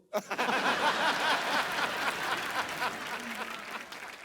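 An audience claps in a dense, sustained burst of applause that begins abruptly and slowly tapers, with some scattered chuckles mixed in.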